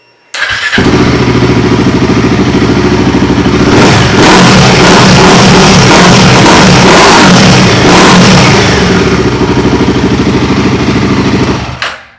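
A Royal Enfield Himalayan 450 motorcycle fitted with a full HP Corse exhaust fires up and revs hard for about eleven seconds, loud and close, with a deep rumbling drone and repeated throttle blips, no talking over it.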